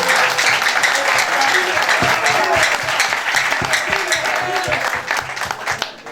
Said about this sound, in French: faut applaudir